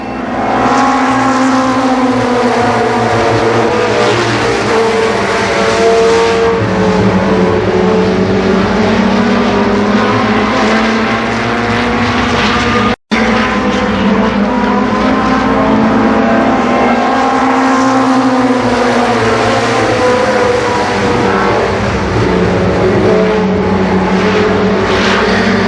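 Stock race cars circling Columbus Motor Speedway in a 1990 fall event, a loud continuous roar of many engines droning past together for the whole stretch.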